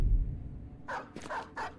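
Dogs in the video game Battle Brothers bark in a quick burst, four or five sharp yaps close together, loud against a low rumbling game background.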